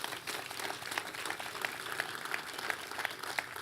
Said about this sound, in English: give them a round of applause right now.